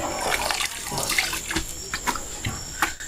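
Peeled cassava roots being washed by hand in water, with close splashing and sloshing in uneven bursts and occasional handling knocks.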